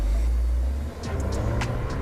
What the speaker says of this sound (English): Okay, first thing, we're going to check the handling of the car.